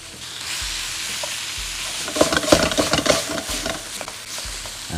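Pork stir-fried in a wok over lowered heat for Shanghai noodles with fresh chili, giving a steady sizzle with scraping and clattering stirring strokes that grow busier midway, close and alone without talk.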